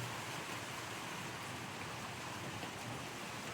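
Downpour with wind lashing a hut, a thick continuous hiss of rain falling steadily and loudly, no talking.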